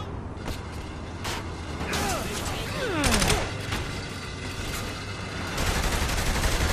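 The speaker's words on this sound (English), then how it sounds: "you really don't have to shoot at the guys behind you either" Rapid bursts of gunfire rattle in Saints Row: The Third, with several volleys over a few seconds against a steady background rumble and some speech mixed in.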